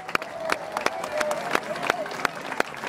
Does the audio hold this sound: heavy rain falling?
no